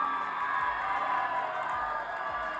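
A pageant audience at a grand finale applauds the five remaining finalist girls, a steady wash of clapping and cheering sustained throughout at moderate level with no distinct voices.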